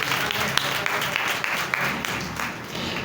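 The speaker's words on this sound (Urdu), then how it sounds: "زوردار تالیاں خدا کے وعدوں کے لیے۔" A church congregation claps loudly during a sermon, with dense, continuous applause and sharp individual claps standing out, filling the space at close range for the whole stretch.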